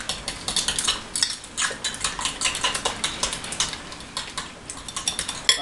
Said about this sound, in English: just kind of stir it up again in there